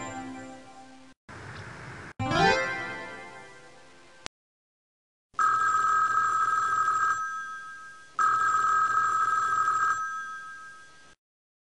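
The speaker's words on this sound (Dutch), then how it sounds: "Tring, tring. Elmo vindt het leuk als de telefoon rinkelt." Telephone ringing in a 1998 Sesame Street counting PC game: a rising electronic sweep, then two long bright ring bursts separated by a short pause, loud and clear with no talk.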